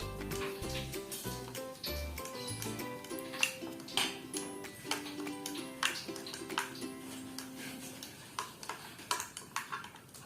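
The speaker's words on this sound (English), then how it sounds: "Mix well to a better feel." Onion ring batter mixed in a bowl: repeated light clinks and scrapes of a utensil against the bowl, quiet and fairly close, with tonal background music early on.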